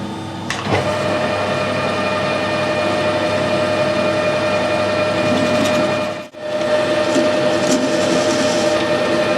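Drilling on a milling machine with the work held on an angle plate, a loud steady machine whine with a sharp onset near the start and a brief dip partway through before it resumes.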